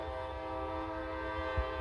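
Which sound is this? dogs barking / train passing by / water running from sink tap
train passing by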